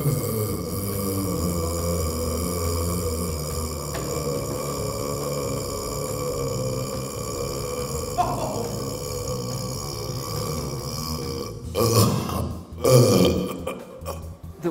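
A long, drawn-out human burp after drinking soda rumbles steadily for about twelve seconds, loud and close, then breaks into a few rougher, choppier bursts at the end.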